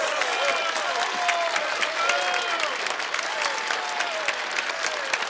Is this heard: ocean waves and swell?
no